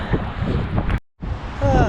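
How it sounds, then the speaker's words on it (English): Strong wind buffets the microphone in loud, continuous gusts, broken by a brief silent gap; a voice is faintly audible. "it's really, really windy"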